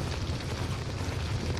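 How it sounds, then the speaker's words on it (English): Steady, dense roaring and crackling like a large fire burning in VRChat, loud and continuous with no breaks and no voices. "He actually reacted to the fire."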